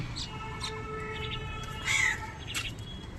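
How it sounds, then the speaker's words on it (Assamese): A crow cawing near a house where birds come to be fed rice, a few harsh calls, the loudest burst in the middle, with other small birds chirping faintly and a low steady background hum. "কাউৰী আহিছে"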